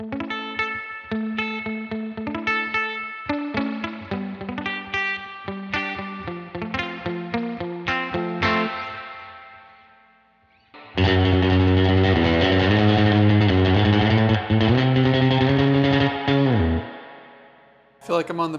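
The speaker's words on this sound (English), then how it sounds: "This is emulating a spring reverb, and it does it very well." Electric guitar through a UAFX Dream 65 amp pedal emulating spring reverb, first a run of plucked notes, then a pause and a sustained, washy chord ringing loud before cutting off.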